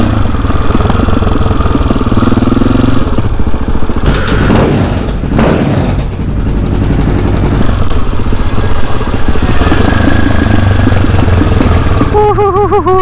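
A loud motorcycle with Akrapovič aftermarket exhausts rumbles and revs up close, with crackling pops and rough idling throughout.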